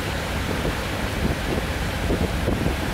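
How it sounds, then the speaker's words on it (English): Wind rushing over a tour boat heading out of El Nido bay into choppy water and swell, a steady loud roar with rumbling low gusts and surging waves throughout, no voices. "the wind increases."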